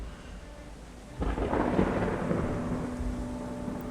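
A thunderstorm over a bridge: a loud rumble of thunder breaks in about a third of the way through and rolls on over steady rain hiss, with no voices.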